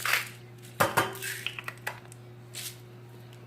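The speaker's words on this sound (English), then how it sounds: "I'm going to do a couple of grinds of pepper" A few short clicking crunches from a pepper grinder turning, scattered over a couple of seconds in a quiet kitchen alongside light utensil clatter.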